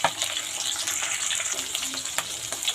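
Fish sizzles and crackles steadily in hot oil in a pan, a dense close hiss with scattered sharp pops, alone with no voices.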